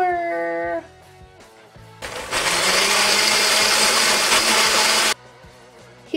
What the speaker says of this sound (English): he was ready to press the puree button on the blender